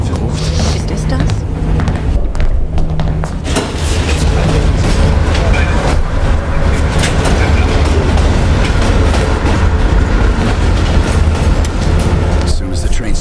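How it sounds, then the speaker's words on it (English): Train running on rails and slowing down in a Call of Duty: Black Ops Cold War cutscene, a loud continuous rumble with rhythmic wheel clatter and low droning, steady throughout without breaks. "Train's slowing down."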